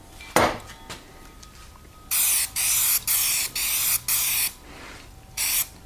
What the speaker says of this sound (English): Okay, now I can spray it all.